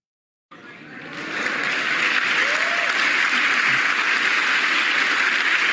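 Audience applause for a State of the Union speech rises quickly after a brief silence into a sustained, dense roar of clapping from a large crowd, holding steady and loud throughout.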